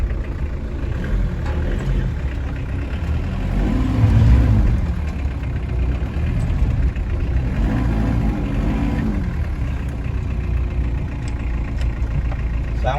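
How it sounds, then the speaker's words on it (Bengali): A Mitsubishi Pajero with a diesel engine and manual gearbox idles nearby, a steady low rumble that swells briefly twice as if revved, with no clear talk. "ম্যানুয়াল গিয়ারের গাড়ি, ডিজেল ইঞ্জিন।"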